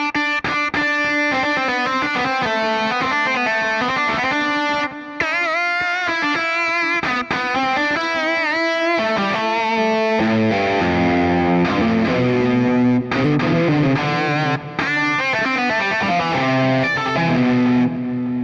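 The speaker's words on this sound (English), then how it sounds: "the thing that I find most impressive is the amp simulation technology" Electric guitar running through amp-simulation software, giving a saturated, distorted tone as it plays a continuous melodic line of sustained notes with heavier low chords toward the end, loud and with no talking.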